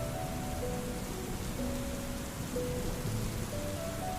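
Steady rain pours down continuously, a dense even hiss of drops on surfaces with no pauses, fairly close and moderately loud throughout.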